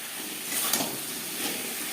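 Potato pieces are stirred into a sizzling spice masala frying in oil for a Bengali fish curry with potato and cauliflower, giving a steady close hiss of frying with faint scraping, no voices.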